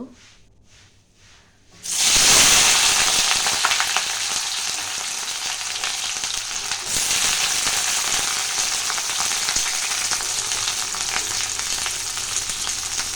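Beans and brinjal frying in hot mustard oil with dried chilli: after a near-silent start, a loud, sudden burst of sizzling hiss erupts as the vegetables hit the pan, then settles into a steady, strong crackling fry.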